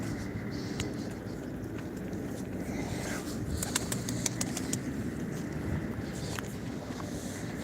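Pigeons cooing softly in the open air at a live pigeon auction, with a steady breeze or distant hum underneath and a few faint clicks and rustles.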